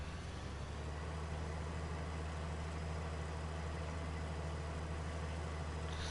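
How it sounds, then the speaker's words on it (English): A John Deere tractor engine in Farming Simulator 19 drones steadily, a loud, continuous low rumble with a constant hum and no talking over it. "like I'm listening to a John Deere tractor revving up and down"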